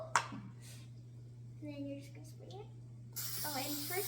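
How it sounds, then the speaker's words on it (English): Pam canola oil cooking spray is sprayed onto a table in a home kitchen while making pretzels, a steady broadband hiss of about a second near the end following quieter speech, over a constant low hum. "you're gonna spray the table, or if you want to do it on a pan, with this Pam spray, Canadian oil."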